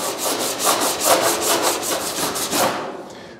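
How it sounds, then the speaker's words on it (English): A sanding block rubs back and forth over a hand-shaped sheet metal roof skin for a 1940 Ford-style build, about a dozen even, rhythmic rasping strokes, close and loud, then stopping. "What I'm gonna do is get a sanding block, hit the highs and see, or hit the sheet metal and see if we have any highs."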